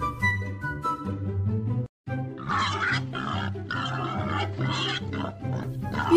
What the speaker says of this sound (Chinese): 原来是很多头小猪从大卡车叔叔的笼子里跑了出来